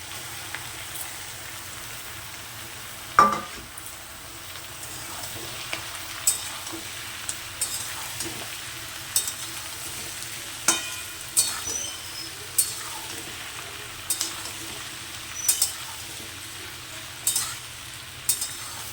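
Scrambled egg bhujia stirred and fried in a pan for pasta, a soft steady sizzle with scattered scraping and clinking strokes of the spatula at irregular intervals, close and moderately quiet.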